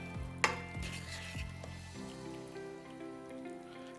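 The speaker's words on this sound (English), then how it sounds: "we're going to stir that in" Stock powder is stirred into a simmering tomato and cannellini bean dish, a soft bubbling sizzle with a sharp clink of a spoon near the start and a few quieter scrapes, faint and steady throughout.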